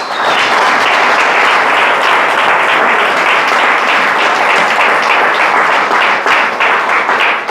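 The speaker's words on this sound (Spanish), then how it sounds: "Dale un aplauso al Señor." A church congregation gives a loud, dense round of applause, many hands clapping continuously and evenly for several seconds with no voices standing out.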